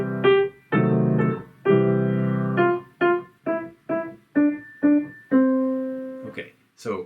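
Piano plays the opening of a piece in a series of separate notes and short phrases, each note sounding clearly with a little sustain, loud and close with nobody talking over it.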